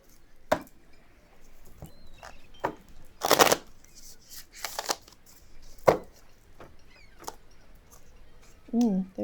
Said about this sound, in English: Let's add one more card onto each of these readings.